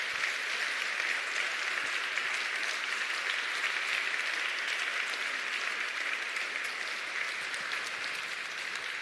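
Sustained audience applause at the Justitia Award Gala 2022 rolls on evenly for several seconds, a thick, unbroken texture of many hands clapping without any talk.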